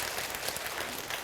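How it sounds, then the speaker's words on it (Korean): Applause from a church congregation at a retreat lecture, a brief, dense patter of many hands clapping at moderate distance, steady and alone with no voices over it. "박수 주세요"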